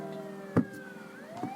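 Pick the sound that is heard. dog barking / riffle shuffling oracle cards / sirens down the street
sirens down the street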